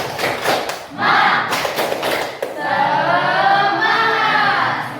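A classroom group beats out the rhythmic 'tepuk semangat' clap, sharp claps and thumps in quick patterned bursts, then the class joins in a loud group chant.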